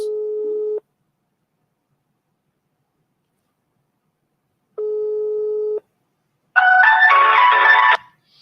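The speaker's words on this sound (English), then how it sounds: "the phone is ringing, no response" A telephone line rings unanswered: two long steady ring tones separated by a long silence, followed by a brief burst of music-like tones, loud and clear with no talking.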